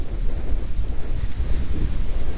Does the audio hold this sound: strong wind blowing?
yes